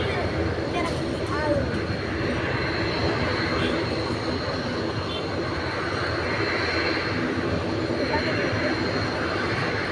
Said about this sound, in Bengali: এটাকে বলে যুদ্ধ বিমান